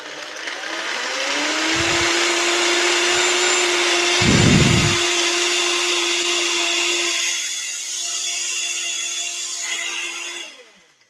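A blender runs continuously, blending frozen banana and strawberries with a steady motor whine and rattling chunks, and two louder grinding bursts along the way before it winds down.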